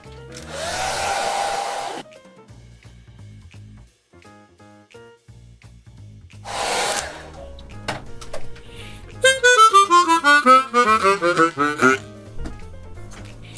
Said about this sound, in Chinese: 用这个吹风机再帮它暖一次